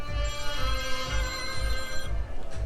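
A mobile phone rings aboard a new Azimut Grande 26M Italian luxury motor yacht, its steady electronic ringtone tones sounding loud and close for a few seconds over a low rumbling background.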